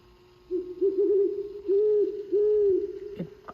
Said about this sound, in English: It kind of sounds like a snow owl.